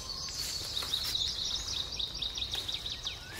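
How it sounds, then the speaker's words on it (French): Birds singing in a beech and yew forest: faint, repeated high chirps and trills over soft background hiss, distant and quiet. "On entend les oiseaux, on entend le bruit des animaux, on entend le bruit du vent."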